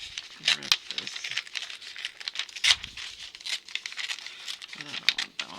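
Paper being torn by hand for an art journal: three separate crisp ripping and crinkling bursts, close and fairly clear, with quieter rustling in between.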